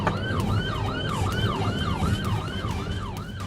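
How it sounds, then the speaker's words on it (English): A police car siren wails in a rapid repeating yelp during a high-speed pursuit, loud and steady over the rumble of the moving car's engine and road noise. "the officer activated emergency lights and sirens"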